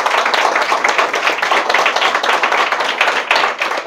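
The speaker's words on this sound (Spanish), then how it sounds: "un aplauso de bienvenida para Sol." A crowd claps steadily and loudly for a few seconds, a dense patter of many hands with no voices over it.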